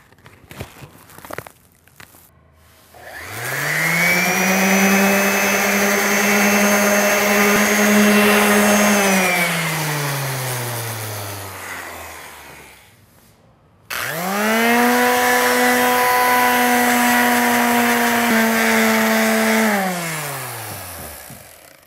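A power sander working on semi-gloss paint runs in two long bursts, its loud motor whine climbing as it spins up, holding steady, then sinking as it winds down.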